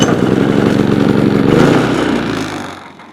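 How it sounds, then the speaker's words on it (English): A Predator 3500 generator engine running on a new battery, a loud steady mid-pitched motor drone that holds evenly for about two seconds, then fades and trails off toward the end with no talking. "That battery provided the juice to be able to turn that engine over with authority."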